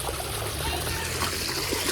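Water runs and trickles steadily at a village home in Botad, a soft continuous splashing stream at moderate distance.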